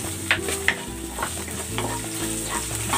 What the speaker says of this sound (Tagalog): Magigisa na ako ng bawang. Ilalagay ko na itong sibuyas.